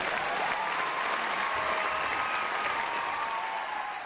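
Canned crowd cheering and applause played from a soundboard, a steady, dense roar that stays loud and continuous throughout with no pauses.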